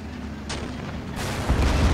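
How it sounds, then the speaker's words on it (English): Deep booming video game explosions in Men of War: Assault Squad 2 go off in quick succession, rumbling heavily with a sharp crack at the start, loud and close. "Explosions."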